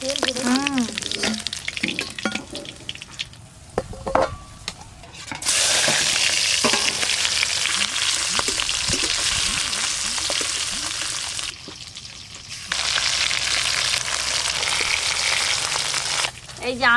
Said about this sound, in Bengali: এই মাছগুলো বেশ ভালো করে ভাজা হয়ে গেল